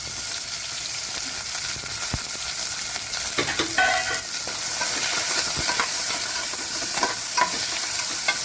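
Cumin, chopped onion and curry leaves tempering in hot oil for palak pappu, a loud continuous crackling sizzle with occasional stirring scrapes, close and without speech.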